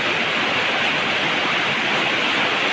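Steady rain pouring onto a house roof, a dense continuous hiss with no breaks and no voices.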